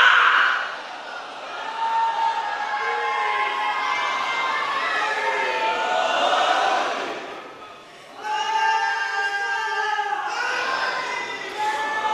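Audience at a Muharram majlis chanting slogans in loud unison, a sustained crowd roar that breaks off briefly and then resumes, with raised voices rising above the mass of sound.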